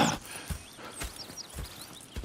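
Horse hooves in Red Dead Redemption 2 clip-clop at a steady walking pace, evenly spaced thuds with faint snorts and ambient game background.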